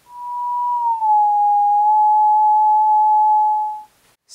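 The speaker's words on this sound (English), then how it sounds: "Audio output, previously just a sine wave," A single pure sine tone from an e-ther synth module's audio output holds steady for nearly four seconds, dipping slightly in pitch early on, then cuts off cleanly, clear and alone.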